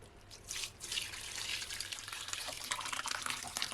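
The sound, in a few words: whey dripping while straining paneer through thin cloth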